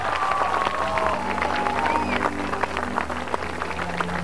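A studio audience at a Pakistani TV talk show claps continuously in a dense, steady patter, with sustained tones from music or feedback running underneath.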